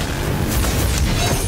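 Explosion spell effect in the Harry Potter: Magic Awakened mobile game, a loud sustained rumbling boom under a voice shouting a spell name.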